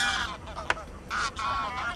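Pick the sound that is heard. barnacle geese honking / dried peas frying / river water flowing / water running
barnacle geese honking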